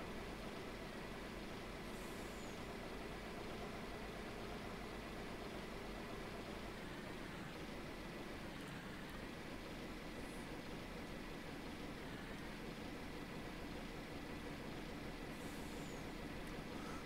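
A Tatra truck engine in the Farming Simulator 19 video game produces a low, steady, unbroken drone, fairly faint and constant throughout, with no talking.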